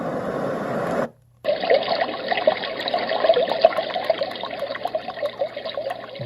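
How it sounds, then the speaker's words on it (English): Running-water noise plays steadily from an AIRSEE white noise machine after a brief pause, a continuous close hiss and trickle at moderate level with no voices. "Water running."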